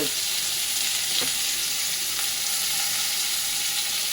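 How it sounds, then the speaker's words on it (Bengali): Onion hitting hot oil in a pan for prawn curry with bay leaf, a loud, continuous, hissing sizzle close up that holds steady throughout. "তা তেল গরম হয়ে গেছে, মানে তেলটা গরমই ছিল। এবারে আমরা পেঁয়াজটা দিয়ে দিচ্ছি।"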